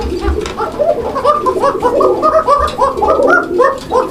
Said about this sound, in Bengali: প্রচণ্ড ডাকে ডাক কবুতরটা